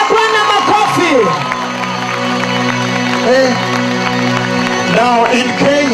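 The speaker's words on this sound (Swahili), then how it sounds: "Somebody clap to the Lord." A congregation at a revival meeting in Kisumu, Kenya, claps and cheers in a dense crowd wash beneath a loud voice and sustained music.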